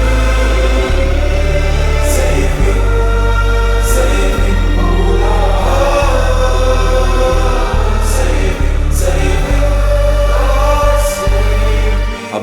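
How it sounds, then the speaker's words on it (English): A densely layered music sample built from more than 150 tracks plays loud and continuous, with a deep steady bass, a thick harmonic texture and periodic percussive hits, and no voices. "Today I'll be breaking down a sample that I made in last week's episode of sample making, which consists of more than 150 layers"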